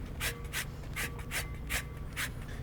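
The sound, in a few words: zesting a lemon over pasta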